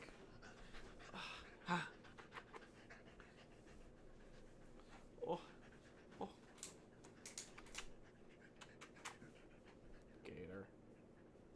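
Dogs pant in quick, soft breaths close by with occasional whimpers, while a person murmurs brief sounds over a background of computer keyboard typing.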